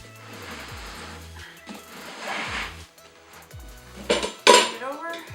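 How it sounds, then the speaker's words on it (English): Metal tire irons levering a motorcycle tire over the rim, giving scattered scraping and metallic clinks that build to a couple of sharp clanks near the end, close up with no speech. "start by pushing in the tire irons under, and then just breaking it over"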